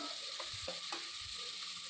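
Cauliflower sizzles in a hot pan while being stirred and sautéed for vegetable pulao, with soft scraping strokes recurring over a steady frying hiss.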